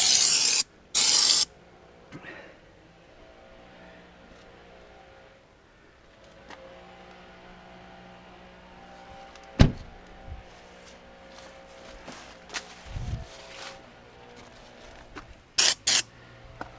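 Fluid Film undercoating sprayed under a Ram truck in short loud hissing bursts at the start and again near the end, with scattered clicks, knocks and faint mechanical noise in between.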